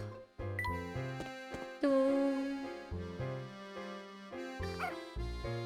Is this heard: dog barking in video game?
yes